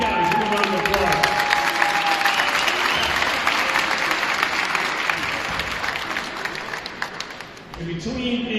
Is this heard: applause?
yes